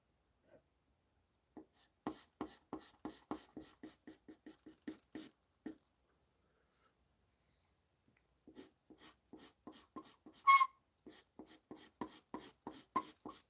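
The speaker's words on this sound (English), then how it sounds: "Sorry about the screeching, everyone. I know it's a nasty sound." Rapid bursts of scratchy charcoal pencil strokes on paper, close and fairly loud, coming in two runs separated by a few seconds of quiet, with one sharper squeak.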